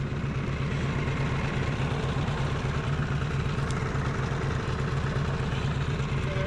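Motorbike engine idles nearby in a steady low rumble with a quick regular putter, constant level and no speech.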